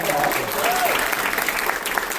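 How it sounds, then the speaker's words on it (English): A crowd claps steadily and fairly loudly, a dense wash of applause that holds for the whole moment. "Y'all give Tom one more round of applause."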